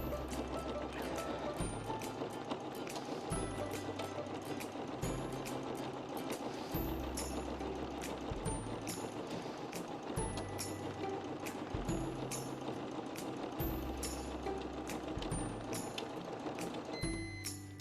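SS 2599 sewing machine stitching a buttonhole, its needle chattering in a fast steady whir with a rhythmic low thump repeating every second or so, close and continuous throughout.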